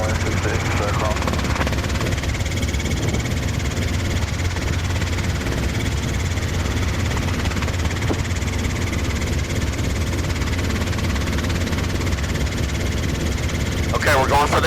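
A Robinson R22 training helicopter on approach to an airport runway, its engine and rotor a steady loud drone with low thumping vibration throughout, while a voice talks over the cabin noise.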